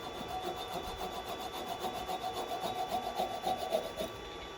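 Sandpaper rubs the end of a small spalted wood vase spinning on a lathe, a soft, steady rasping hiss with slight rhythmic pulsing, close and fairly quiet.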